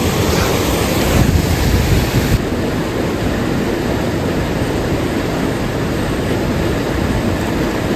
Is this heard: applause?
no